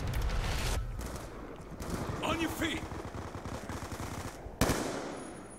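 Rapid automatic gunfire from the video game Black Ops 2 rattles in fast bursts, loud and continuous, with a player talking over it.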